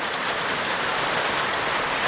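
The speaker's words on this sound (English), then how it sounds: "it's pouring now, guys. Look at that. The rain is beautiful." Heavy rain pours steadily on a homestead, a dense, even hiss of falling water that holds at the same loud level throughout, with no voices.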